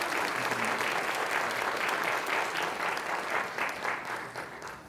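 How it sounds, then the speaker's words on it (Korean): A church congregation claps steadily and loudly for several seconds, the applause dense and continuous before easing slightly at the end. "우리 목사님 큰 박수로"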